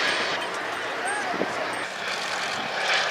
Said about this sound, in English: Another aeroplane we haven't seen here for a while from the Royal Navy historic flight, the majestic Fairey Swordfish 1.